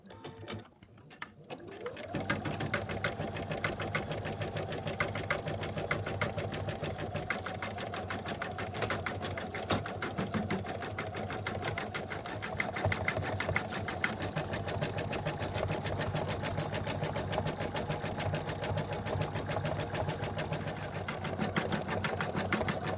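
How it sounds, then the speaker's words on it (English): An embroidery machine stitches the final color on an in-the-hoop zip top bag, starting up after a moment and then running in a steady, continuous mechanical chatter close by. "now comes the last color stitch."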